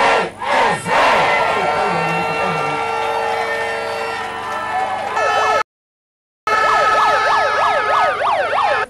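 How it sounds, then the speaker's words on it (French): Crowd of party supporters and sympathisers cheering loudly at a political rally in Benin, a dense roar of voices and shouts with whistles and warbling siren-like tones, briefly cut to silence before resuming. "Janvier Yawedeou a été accueilli à chacune de ces étapes dans la liesse par une foule"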